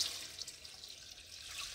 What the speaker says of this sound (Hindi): इतने हम पा देंगे जी गोश्त गलाने वास्ते पानी